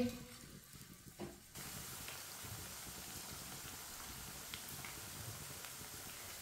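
Spoonfuls of onion pakora batter drop into hot oil, setting off a steady, dense sizzle and crackle of deep frying that holds loud and even throughout after a brief quieter start.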